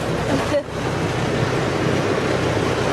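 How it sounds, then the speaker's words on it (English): A tractor rolls past near a multi-block harvest site, a steady low engine drone and road rumble that holds evenly throughout, heard close with no talk. "Here comes the tractor."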